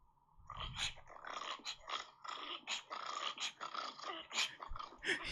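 A dog breathes heavily and growls in low, rumbling bursts, close by, with snuffling breaths repeating in an uneven rhythm.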